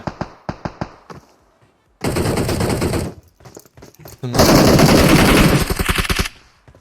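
Automatic weapon fire in the mobile battle royale game PUBG Mobile: a few quick separate shots, then two long dense bursts of rapid gunfire, loud and close, with short pauses between.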